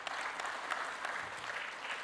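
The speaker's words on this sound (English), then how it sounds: "let's give a round of applause again to all the speakers here" Applause from an audience for the speakers at an international CEO forum, a steady wash of clapping heard from some distance and lasting the whole time.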